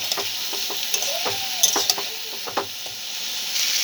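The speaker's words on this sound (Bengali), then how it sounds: "দিয়ে ভালো করে আমি নেড়ে চেড়ে একটু কষিয়ে নেব।" Eggplant and potato are stir-fried with salt, chili and turmeric in a pan, giving a bright, close sizzle with a hissing edge, punctuated by sharp clinks and scrapes of a spatula stirring, no speech.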